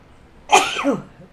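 A single close, sharp sneeze bursts out, loud and brief, ending with a short breathy tail.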